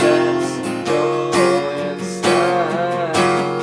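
An acoustic guitar strums the chorus of a song in loud, close chord changes that come in steady rhythmic bursts.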